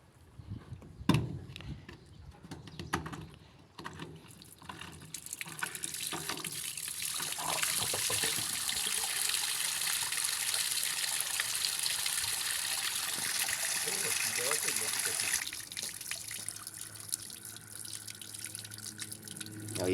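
Water pours out of the opened drain filter of a top-load washing machine, swelling into a steady rushing flow, then easing to a lighter trickle.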